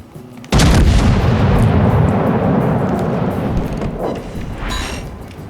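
A loud naval gun salvo booms in the World of Warships video game, one sharp heavy blast followed by a long rumbling decay over about five seconds.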